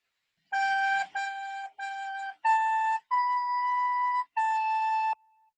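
A recorder plays a short opening phrase beginning on G, six clean sustained notes with brief gaps, the last few held longer and stepping up and back down, played solo and close.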